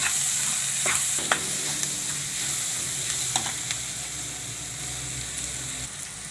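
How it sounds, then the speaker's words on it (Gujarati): Chilies and capsicum stir-fried in a hot pan for Manchurian, a steady sizzle with scraping stir strokes and occasional sharp clinks, close and continuous throughout. "અને આપણે આ મરચાં નાખી દઈશું, કેપ્સિકમ. અને સરસ શેળવી લઈશું આપણે આને."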